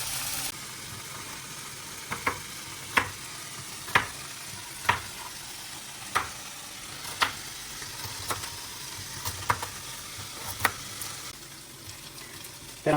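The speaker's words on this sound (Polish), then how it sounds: "woda odparowała, zaczyna się w końcu smażyć" Meat fries steadily in a pot once the water has evaporated, with sharp clinks and scrapes of a utensil stirring at regular intervals over the frying hiss.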